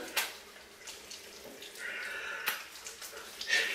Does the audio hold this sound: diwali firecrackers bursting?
no